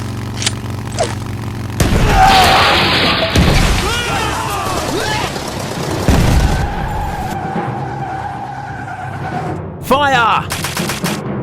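Gunfire and grenade blasts from a LEGO World War II Pacific battle animation crack out in loud bursts, mixed with skidding and other battle effects across the scene.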